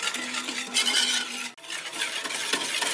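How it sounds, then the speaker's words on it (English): A spoon works flour into honey cookie dough in a bowl, with close rough scraping and stirring strokes that pause briefly midway before carrying on. No one speaks. "And now it's time to slowly start adding that flour, mixing to begin with"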